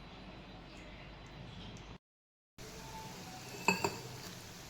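Cream sizzles down into ghee in a pan on a gas stove with a soft, continuous frying hiss, broken by a brief gap and followed by a couple of light metallic clinks.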